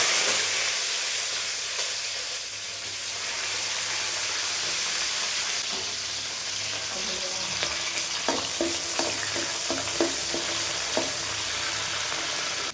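Fenugreek, green chilies and curry leaves fry in hot oil, a loud continuous hiss and crackle, with a few sharper spits and stirring taps near the end.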